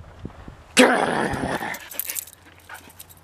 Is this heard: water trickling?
no